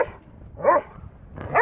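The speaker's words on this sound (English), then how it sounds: "Oh, you silly doggies!" Dogs barking at Fort Funston, a beach setting, with two short, close barks about a second apart, nearly alone apart from a faint background.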